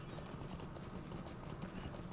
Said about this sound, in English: Urukai riding around on horses.